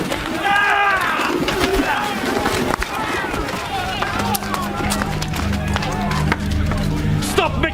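Pigeons coo and flutter in a busy temple marketplace scene, soft throaty calls mixed with shuffling and movement beneath loud dramatic speech.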